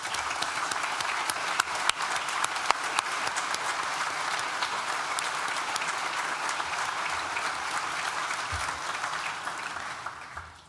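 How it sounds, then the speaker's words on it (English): A graduation ceremony audience at a university hall applauds in a sustained, even roar of many clapping hands, fading slightly toward the end. "Please join me in thanking them with a well-deserved round of applause"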